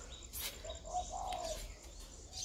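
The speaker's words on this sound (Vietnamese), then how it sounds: "Đây là những chú chim bón của mình này" Hand-fed pet birds chirp indoors, a few short, thin tweets and a brief rising call close by, quiet over a low background hum.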